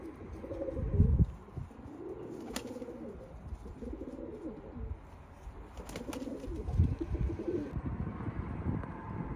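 Pigeons coo on a rooftop in repeated low, rolling phrases, fairly close, with a few brief chirps and a flutter of wings between the calls.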